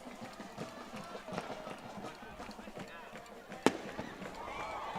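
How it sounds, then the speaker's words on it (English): A single sharp firework bang bursts out at a high school varsity football game, loud and sudden against steady crowd noise, running footsteps and a commentator's ongoing talk. "And a firework going out."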